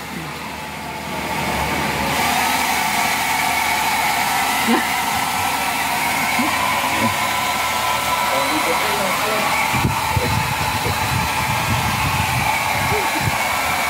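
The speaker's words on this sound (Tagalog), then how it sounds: "Blower na para matuyo." A hair dryer blows steadily with a constant whooshing hum, close and loud throughout, with scattered thumps and faint voices underneath.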